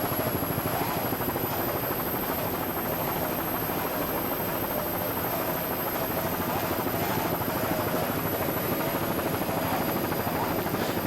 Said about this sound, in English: These motors are really cooking out here.